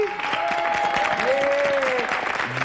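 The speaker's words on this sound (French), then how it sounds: "On s'applaudit, ça s'applaudit." A television game show studio audience claps steadily in a short burst of applause, moderately loud, with a brief musical tone and some voices underneath.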